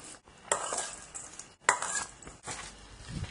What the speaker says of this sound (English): The toasted rice, peanuts, and give that all a nice mix around.